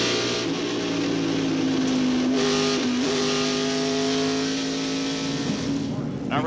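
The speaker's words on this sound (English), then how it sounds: "listen as Mark comes off the corner and sees a 98 car crash" In-car engine of a 1995 NASCAR Winston Cup race car at Atlanta Motor Speedway, a loud sustained drone with steady harmonic pitch coming off a corner, shifting slightly as the car approaches a crash, with a broadcast commentator talking over it.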